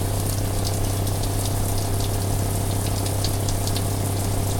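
Hot water runs steadily from a tap with a Camplux CA318 water heater running in an off-grid tiny cabin, a constant close gushing flow over a low steady hum, no talking.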